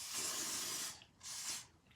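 Two bursts of hair spray hiss up close onto a wig, a long spray followed by a short pause and a second, briefer one.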